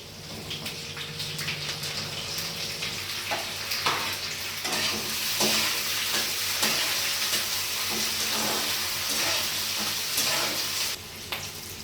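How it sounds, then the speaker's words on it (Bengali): Onions sizzle and crackle as they fry in a pan for Indo-Chinese chilli paneer, a steady close frying hiss with occasional scrapes and stirring clatter, no talking. "এবার আমি পেঁয়াজগুলো দিচ্ছি"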